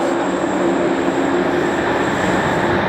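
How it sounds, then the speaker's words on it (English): Loud, steady rumble and roar inside a moving London Underground train carriage, with a constant high whine and no voices. "This is what travelling on the tube should be like. Loud and an entire carriage to ourselves."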